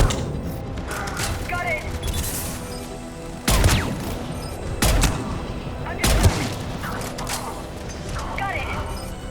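Gunfire at a Cerberus checkpoint in the video game Mass Effect 3: several loud shots and blasts punch through a dense, mechanical battle din, with voices speaking over the action.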